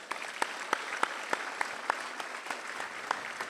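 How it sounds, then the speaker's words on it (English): Steady applause from a crowd fills the space, with scattered sharper claps standing out from the even, moderately distant clapping. "Please give HRD Corp a big round of applause."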